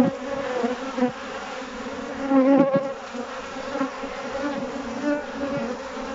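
Honey bees buzzing at a hive, a dense steady drone of many insects close by with slight swells in loudness and no voices.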